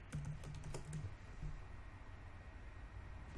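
Soft, quick keystrokes as a password is typed on a computer keyboard into an Ubuntu 15.10 terminal, a faint run of uneven clicks, busiest at the start, over a low steady hum, with no talking.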